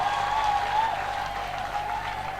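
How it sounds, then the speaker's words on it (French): A church congregation applauds together in a steady, sustained wash of clapping, with a held tone ringing faintly beneath it, no speech. "tu aurais déjà applaudi pour le Seigneur Jésus de Nazareth."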